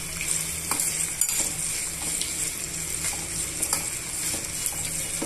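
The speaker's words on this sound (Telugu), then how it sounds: "ఇవన్నీ బాగా మిక్స్ చేసుకొని వేయించేసుకోవాలండి" Thinly sliced beetroot, two roots' worth, stir-fried in a pan as a seasoned fry: a steady, close hiss of frying oil runs throughout, broken by soft scraping stir strokes at irregular intervals, with no voices.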